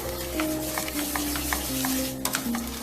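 Stirring white sugar into a pumpkin and evaporated milk mixture in a pot on medium heat gives soft, regular scraping taps near at hand, under a steady low hum from the kitchen.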